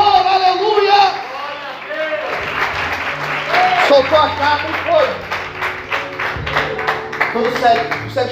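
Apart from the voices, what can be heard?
congregation applause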